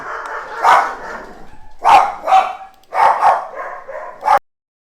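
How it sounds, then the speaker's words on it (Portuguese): Dogs bark in several loud, sharp bursts, close by, in uneven clusters before stopping abruptly into silence. "meus cachorros resolveram latir bem na hora"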